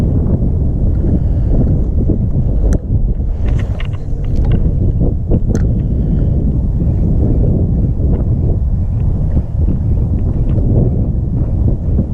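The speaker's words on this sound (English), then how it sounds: "Can't reach over there when the wind's blowing." Gusting wind buffets the microphone while fishing from a boat on open water, a loud, continuous roar with rustling bursts and occasional light knocks.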